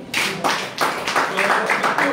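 Close, loud hand claps from a small audience at an award ceremony, landing in quick rhythmic bursts for about two seconds.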